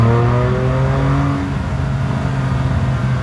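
A BMW M2 Competition with a Milltek equal length exhaust revs hard, the engine note climbing to a loud, raspy scream before settling into a sustained roar, close and alone.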